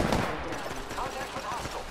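Rapid video game gunfire, a quick run of sharp rhythmic shots over a busy combat background with faint voice chatter mixed in.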